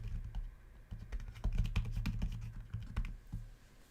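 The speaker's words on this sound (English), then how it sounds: "I'm just going to type something in the chat here." A computer keyboard is typed on at a desk, with quick, close clicks and taps in an uneven rhythm, fairly quiet and heard alone.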